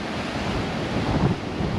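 Ocean surf washes onto the beach at Coconuts on Cozumel, a constant rushing roar of breaking waves mixed with wind buffeting the microphone, swelling slightly midway, with no talking.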